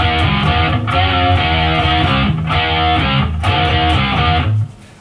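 A distorted electric guitar chugs through the verse rhythm of a song, with loud, steady palm-muted chord bursts broken by brief gaps before ringing out and stopping near the end.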